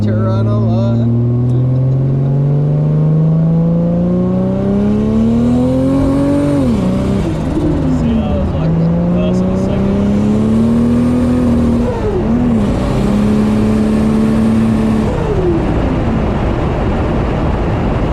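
A Nissan Skyline engine revs repeatedly while burning its tyres, climbing in pitch, dropping sharply and climbing again in loud, sustained pulls. Faint voices are present under the engine.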